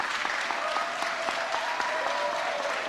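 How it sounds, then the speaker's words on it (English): An audience applauding new society members at an honor society induction ceremony, a steady, moderately distant round of clapping from a large crowd with a faint sustained tone beneath. "Let's give our new members a round of applause."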